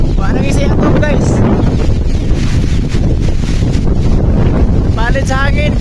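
Loud, buffeting typhoon wind roars against the microphone throughout, with gusty rushes and voices shouting faintly underneath.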